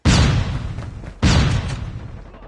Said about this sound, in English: Flashbang! Flash out!